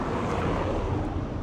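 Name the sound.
wind on the Portuguese coast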